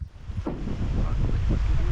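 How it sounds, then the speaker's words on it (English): Steady wind roars and buffets outdoors over Rock Lake in Algonquin Park, with broadband gusting and a low rumble throughout, occasional swells suggesting water nearby. "It's a windy day out on Rock Lake."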